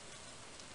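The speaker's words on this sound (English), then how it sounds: "it is raining, which will be nice" Steady rain falls in the Stardew Valley game, a brief, even wash of soft patter and hiss with no distinct drops standing out, faint and continuous.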